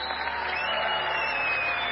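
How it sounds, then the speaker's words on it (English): Conference audience applauding outdoors, a dense, even wash of clapping that holds steady for the whole short stretch, with no talk over it. "Let's clap it up for these guys."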